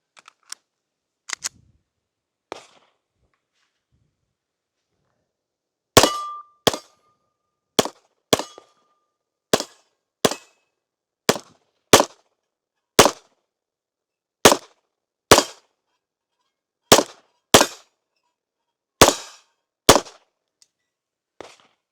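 Pistol shots firing Zalos ammunition, sharp loud cracks spaced about a second apart in a long steady string after a few scattered early shots, with metallic clicks between them and no talking.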